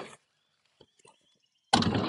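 A brief rattle, then faint clicks of a latch, then a loud sustained rumble as a Subaru kei van's sliding door rolls open nearby.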